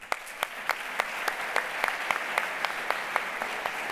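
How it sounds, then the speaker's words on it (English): An audience applauds at the HackUPC 2023 hackathon closing ceremony, steady clapping from a crowd with individual claps popping out at a brisk, even rhythm throughout. "Give a round of applause for..."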